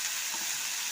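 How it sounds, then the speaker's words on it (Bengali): Green peas and vegetable stalks fry in a wok with a steady, close hiss and crackle, with a faint scrape of stirring partway through. No one speaks. "আমি কড়াইশুঁটি আর ডাঁটাটা দিলাম, একটু হালকা করে নেড়ে নেবো"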